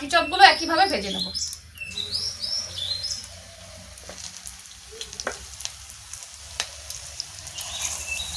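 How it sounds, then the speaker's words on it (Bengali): Onion pakoda fritters frying in oil over low heat. A soft, continuous sizzle with occasional crackles runs throughout, while birds chirp clearly near the start and faintly later. "এবার বাকি চপগুলো একইভাবে ভেজে নেব।"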